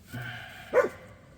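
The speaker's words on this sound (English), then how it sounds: "Sorry about the dog bark" A single dog bark rings out at moderate distance in a garage or driveway where oil and a shock are being changed on a 1991 Ford Ranger, preceded by a softer low vocal sound.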